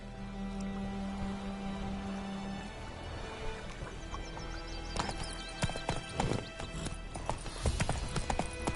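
Rhythmic horse hooves clip-clop on a ridden horse in Witcher 3, steady and close, with a horse whinny and game ambience alongside.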